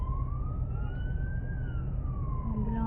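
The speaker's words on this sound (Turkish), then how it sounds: "Ambulans hadi." A Turkish ambulance siren wails steadily over rumbling road traffic, its pitch rising then falling in a slow sweep, with no one speaking.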